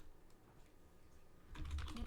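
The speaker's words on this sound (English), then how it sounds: "I'm typing behind my freaking mic." Quick, soft taps on a computer keyboard sitting behind a microphone, faint and muffled at first, then a brief louder flurry of keystrokes near the end; no speech.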